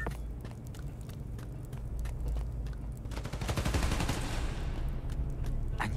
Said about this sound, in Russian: Они стреляют в трансформаторы?